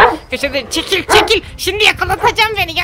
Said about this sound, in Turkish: Havlıyor bu ya.